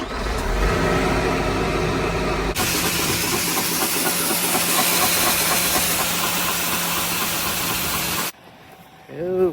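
A farm tractor's engine runs with a loud, steady hiss and rumble, near and continuous before planting, then cuts away to a quieter moment at the end.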